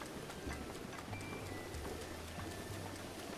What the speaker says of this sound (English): We need to wait for the rain to stop.